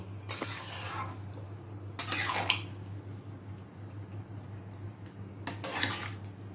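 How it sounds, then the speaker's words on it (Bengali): Mutton ghugni being stirred with garam masala in a pan: three separate short scraping, clinking strokes of a spoon against metal, close and fairly quiet, with a steady low hum between them. "এইবার আমি এটাকে ভালো করে নাড়িয়ে নিচ্ছি"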